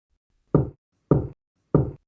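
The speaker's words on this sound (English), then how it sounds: "Then came the knocks." Three slow, evenly spaced knocks on a wooden door or boards in a horror story, each a single heavy thud with silence between, close and clear, no voices.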